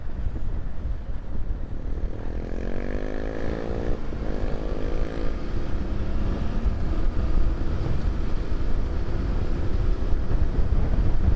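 A Yamaha Tenere 700 adventure motorcycle underway, its engine a steady drone buried under heavy wind rush, with a faint rising engine tone in the middle of the ride.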